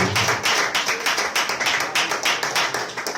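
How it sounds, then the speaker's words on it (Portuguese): A church congregation claps steadily and densely, a continuous wash of many hands close by, with no voices breaking through. "Pode aplaudir ao Senhor, igreja. Pode aplaudir ao Senhor Jesus."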